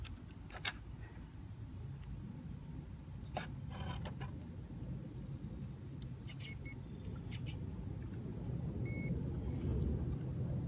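An Axial SMT10 Grave Digger RC monster truck, running stock on battery power, gives a steady low rumble that builds slightly over time, with scattered faint ticks and clicks above it.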